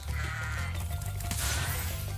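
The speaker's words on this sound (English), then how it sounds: "Incoming goat." A goat bleats loudly and close in Spyro Reignited Trilogy, a steady, wavering cry over game music that lasts about two seconds.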